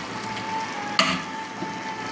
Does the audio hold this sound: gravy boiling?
yes